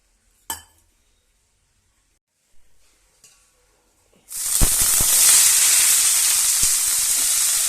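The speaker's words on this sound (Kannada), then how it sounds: "ಚೆನ್ನಾಗಿ ಫ್ರೈ ಮಾಡ್ಕೊಬೇಕ್ರಿ. ಒಂದು ಬಣ್ಣ ಬರೋಂಗೆ ಫ್ರೈ ಮಾಡ್ಬೇಕ್ರಿ." Cauliflower with gram flour, chopped garlic, chili powder and salt hits a hot pan after a few quiet clinks, then a loud steady sizzle with scraping stirs, close and without talking.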